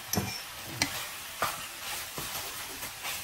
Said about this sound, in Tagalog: kailangan lang natin i-fry siya dahil gagawa tayong sauce later with mushroom